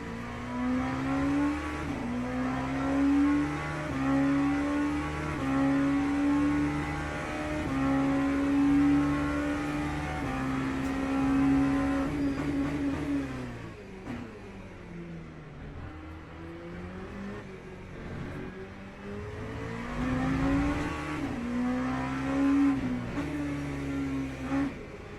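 Race car engine in the video game Le Mans Ultimate, a loud droning whine that rises through gears, dips as the car downshifts and brakes, then climbs again on acceleration.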